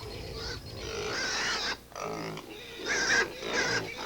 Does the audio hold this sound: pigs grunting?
yes